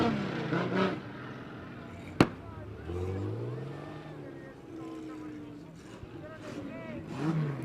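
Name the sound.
heavy metal V6 stock cars racing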